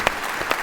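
A short burst of applause from a few people clapping on a podcast, quick uneven claps that end almost at once.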